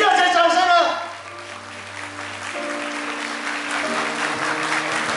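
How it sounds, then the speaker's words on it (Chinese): Wedding guests break into loud, sustained applause, continuing steadily from start to end, with some voices mixed in at the opening. "让我们用热情的祝福与热情的掌声"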